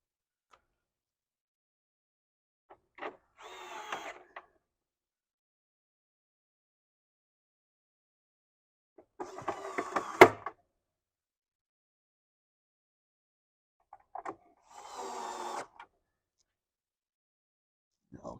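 Four screws driven back into the cover of a Nautilus CC Plus machine, heard as three separate bursts of quick ticking clicks with pauses between them, close and fairly quiet.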